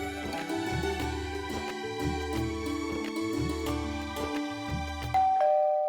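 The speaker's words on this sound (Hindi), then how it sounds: "घंटी पे घंटी बजाए जा रहे हैं।" A home doorbell rings again and again in a steady, insistent ding-dong pattern. The chimes are loud and close, with no voices, and a final tone is left to ring out at the end.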